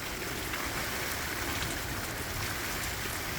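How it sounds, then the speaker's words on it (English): Heavy rain pours down during a dark rainstorm, a dense, even hiss of countless drops drumming steadily and continuously, with no talking. "Now we have a rainstorm, y'all. It's raining cats and dogs out here."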